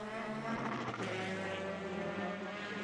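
A powerful Lola race car engine in Formula BOSS Ireland racing roars steadily and close, its pitch wavering as it strains for traction under acceleration, continuous throughout.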